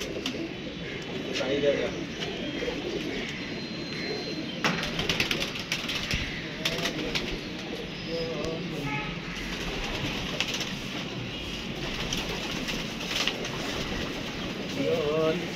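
Sargodha pigeons in a loft coo softly, with occasional wing flaps and rustling at close range, while people talk over them.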